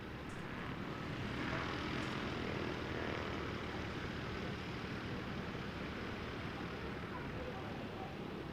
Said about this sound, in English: Couple have actually taken off on the northwest runway 29